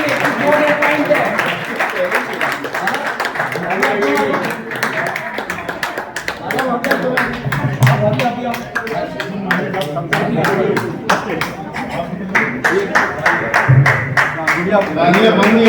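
Audience at a Vedic-style birthday celebration in a spiritual yoga ashram in Indore claps continuously and steadily, dense overlapping hand claps forming a loud sustained wash with voices mixed in underneath.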